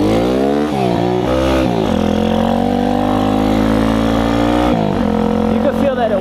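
A Tao Tao 140cc Chinese dirt bike engine revs hard and holds a loud, steady drone, dipping briefly and climbing again, bogging from its carburetor as the rider tries to lift a wheelie. A voice talks over the engine.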